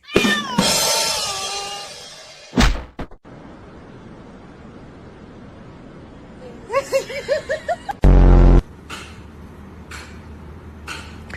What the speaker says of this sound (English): Let's check out some smart cats.